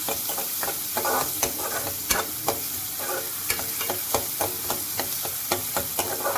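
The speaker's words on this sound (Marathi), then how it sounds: "कांदा परतायचा. कांदा चांगला भाजला की आपल्याला आपलं खोबऱ्याचं वाटण घालायचं आहे." Onion sautéing in a pan with coconut paste, a continuous loud sizzle broken by regular spatula strokes and scrapes, close and steady throughout with no speech.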